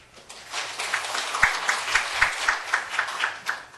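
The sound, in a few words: audience applause welcoming an executive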